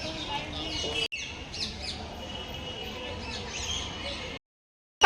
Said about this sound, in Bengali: ওই যে ওখানটায় একটা পাখি বসে আছে, ওটা কি পাখি আমি নাম ঠিক জানি না।